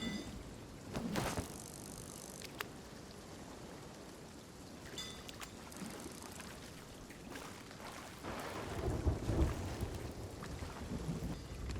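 Stormy weather in the Sea of Thieves game while fishing deep in a storm: a steady wash of rain with rumbling thunder, a louder rolling burst late on, and brief crackling bursts near the start.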